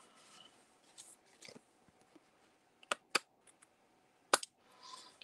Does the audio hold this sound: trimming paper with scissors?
yes